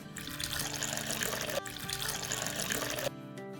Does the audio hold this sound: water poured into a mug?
yes